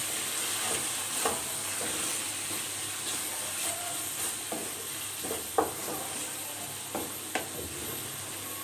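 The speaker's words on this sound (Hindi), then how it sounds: "लहसुन अदरक के पेस्ट को भी सौते करेंगे जी" Garlic-ginger paste and spices sizzling and frying in a pan for beef curry, a steady hiss broken by occasional stirring scrapes and clinks, close and without speech.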